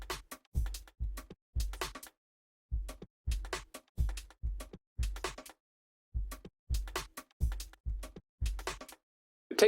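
Drums run through a formant shift effect for a darker, duller tone play a tight, repeating pattern of punchy low kicks and clicky hits. The phrases are separated by short silences, and no one talks.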